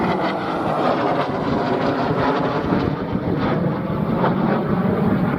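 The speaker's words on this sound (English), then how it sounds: "Oh, Typhoon's coming over." A Eurofighter Typhoon jet passes fast over the runway at RAF Coningsby, a loud, steady broadband roar that holds for the whole stretch without any break or voices.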